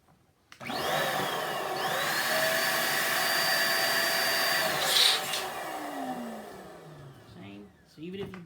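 Air pump inflating latex balloons, a steady close whooshing hum that runs for several seconds with rising, stretching tones as the balloon fills, then cuts off with a brief squeak.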